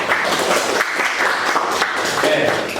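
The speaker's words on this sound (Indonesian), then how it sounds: "Beri tepuk tangan" Classroom applause following a group's presentation on clamping in a vocational workshop lesson, a steady wash of clapping from many students lasting about three seconds, with voices mixed in.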